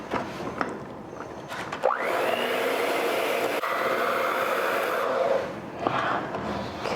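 An electric mixer mixes chocolate chip cookie dough for a skillet cookie, running steadily for about three seconds with a rising whine at start-up, then stopping, with clanks before and after.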